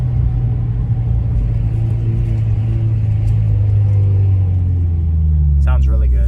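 A Subaru WRX with its muffler deleted, heard from inside the car as a steady low engine and exhaust rumble with turbo noise, which rises slightly near the end while people talk over it.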